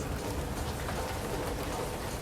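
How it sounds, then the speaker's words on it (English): Steady, dense rain hiss in Modern Warfare 2, an even wash of falling rain with no talk, close and constant throughout. "You can see the rain hitting your camera POV."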